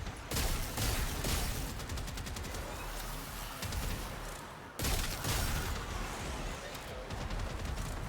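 Dense Warframe combat against Corpus enemies rattles with rapid bursts of gunfire and booming blasts, a constant busy barrage at moderate level broken by a brief dip before resuming.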